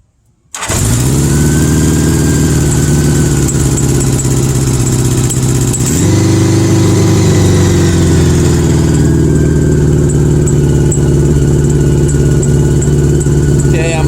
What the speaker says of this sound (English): Now let's start the bike and see how many volts the stator is putting out.